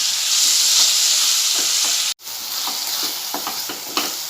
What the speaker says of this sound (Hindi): अब मैं इसमें टमाटर डालूंगी और इसे भी नरम होने तक प्याज के साथ तलूंगी।